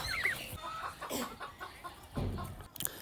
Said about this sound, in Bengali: ভিডিওতে যে পাখিগুলো দেখতে পাচ্ছেন এগুলো হচ্ছে টার্কি মুরগি